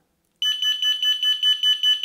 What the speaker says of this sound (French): Donc c'est une sirène d'extérieur